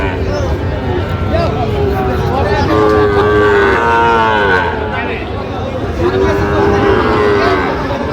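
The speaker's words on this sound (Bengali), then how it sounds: "শাহিওয়ালের ষাঁড় বাচ্চা।" Sahiwal bull calves at a crowded cattle market in Dinajpur give long, drawn-out moos several times, loud and near, over the constant murmur of a busy crowd with voices talking.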